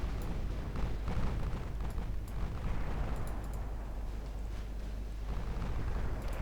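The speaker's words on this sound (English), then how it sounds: "even my light cruiser is launching torpedoes" Torpedo launch from a light cruiser during a naval battle in Ultimate Admiral Dreadnoughts, a steady loud roar of rumbling booms and bursts with no clear individual shots, continuous throughout.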